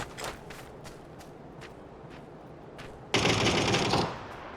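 Gunfire in the battle royale game PUBG, on the Taego map: scattered single shots, then a dense one-second burst of rapid fire at close range, loud against a constant low background.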